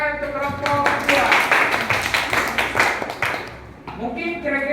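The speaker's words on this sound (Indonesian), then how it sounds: "tepuk tangan untuk kelompok 2" A classroom of students applauds for a presenting group in a physics lesson, steady clapping for several seconds, dense and close, with voices mixed in.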